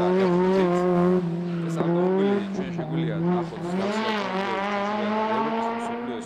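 A race car at the third stage of the Georgian hill climb championship at Didgori holds a loud, sustained high-revving engine note, with the pitch sliding up and down as it accelerates, close and continuous.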